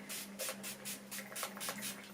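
A hand pump bottle of hydrocolor spray gives about eight quick hissing bursts in an even rhythm, close and fairly quiet, with no talk.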